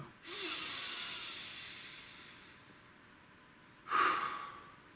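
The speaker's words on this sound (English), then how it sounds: "So take a nice deep breath." A deep breath taken close to the listener, a long airy inhale fading slowly, then a brief sharp exhale near the end, with no talking.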